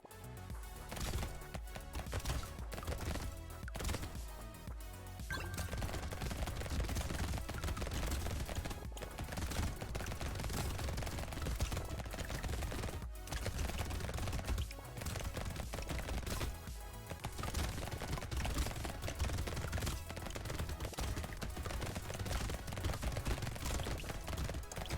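Rapid, dense gunfire from many weapons in the top-down arena shooter Brotato, a continuous crackling barrage that runs steadily without pause, with no one talking.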